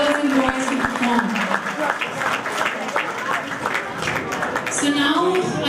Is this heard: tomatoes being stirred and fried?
no